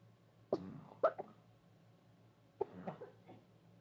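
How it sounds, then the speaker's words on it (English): Quiet, close coughs during a live game session: two short bursts a half second apart, then a third cough with a softer follow-up a moment later, over faint low background hum. "Excuse my cough."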